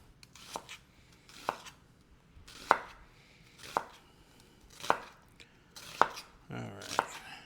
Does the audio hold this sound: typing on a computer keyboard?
no